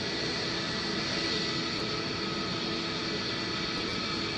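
A fixed-wing aircraft dives toward the runway during an airshow in the Roblox PTFS flight game, its engine a steady, loud broadband roar that holds without a break.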